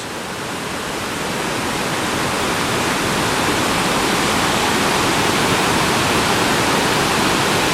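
Waterfalls at Iguazu National Park in Argentina roar as a dense, steady, broadband rush that swells in slightly at first, then holds loud and constant, with no voices.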